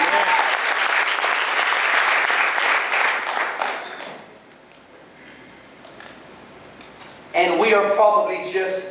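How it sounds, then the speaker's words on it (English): A church congregation claps loudly and densely for about four seconds, then the applause fades into quiet room noise before a speaking voice comes in near the end. "give the Lord a hand clap for that"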